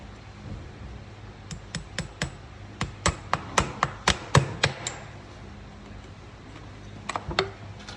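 Nails driven with a hammer to tack a shoe onto a racehorse hoof: sharp metallic taps in quick clusters, about a dozen strikes in a row followed by a short pause and a few more blows, close and distinct.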